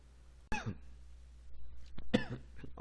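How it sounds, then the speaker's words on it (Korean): A single sharp cough, then a pause and a second burst of coughing, close and fairly loud against a quiet room hum. "기침"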